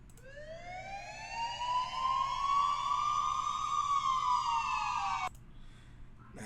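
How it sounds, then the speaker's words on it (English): A loud rising-and-falling siren sound effect in a music beat sweeps up and holds for about five seconds, then cuts off abruptly, with a brief spoken word at the end. "this siren sound came from Vision."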